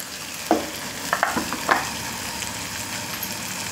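A spiced tempering of oil, tomato and ginger garlic chili paste sizzles steadily in a pan for a dhaba-style gravy, with several quick clinking stirs and scrapes near the start over the constant frying hiss.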